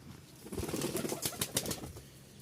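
Caged Giribaz pigeons beat their wings in a few quick, close flurries of flapping, rising and falling over a soft background hum.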